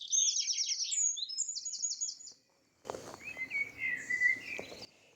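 Birds chirp and trill in bright bursts, then a pause, followed by more varied bird calls over faint background noise.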